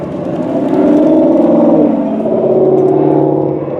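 A Ford Mustang GTD road car on a race track, its engine accelerating with a rising, close, loud roar that swells and then holds before easing off.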